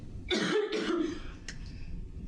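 A single close, harsh cough with a throaty catch, followed by a faint click, heard alone without talking.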